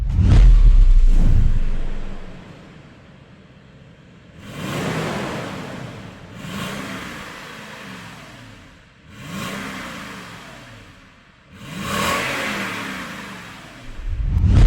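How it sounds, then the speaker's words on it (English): A Lexus LX570 V8 engine revved in short bursts while parked, four loud roaring blips rising and falling with quieter idle between them, heard close and alone. "We're gonna still rev it a little bit."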